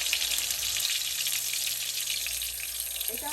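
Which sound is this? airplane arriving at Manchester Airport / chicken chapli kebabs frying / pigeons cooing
chicken chapli kebabs frying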